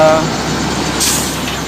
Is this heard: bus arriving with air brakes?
yes